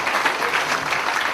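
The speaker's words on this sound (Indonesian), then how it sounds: "Tapi jadi ya boleh tepuk tangan dulu." A seated audience at a Buddhist talk breaks into a short burst of even, moderately loud clapping that lasts only a moment.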